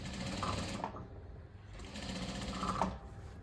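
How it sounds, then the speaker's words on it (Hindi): A sewing machine stitches a waistband onto a semi-Patiala salwar, running in two steady bursts with a brief pause between them, close and fairly loud. "अब मैं इसको बेल्ट को रख के सिलाई करूँगी।"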